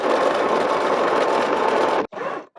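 A sewing machine hems a shirt sleeve for a pirate-style shirt, stitching in one close, steady buzzing run, then stopping abruptly before a short final burst.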